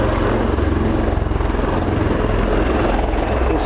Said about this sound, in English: this is very much an attack helicopter, designated Wildcat HMA2